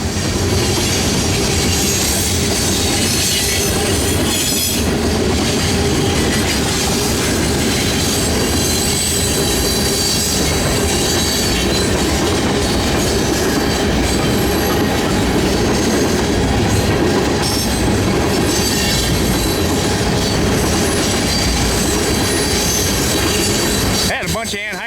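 A Canadian National freight train passes close by in Iowa, loud continuous rumble with rail clatter and wheel squeal throughout, while someone talks faintly over the noise.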